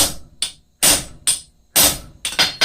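A blacksmith hammers hot metal on an anvil to upset it, six sharp ringing blows spaced out with short quiet gaps, close and loud.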